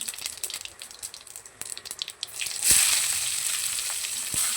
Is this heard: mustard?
yes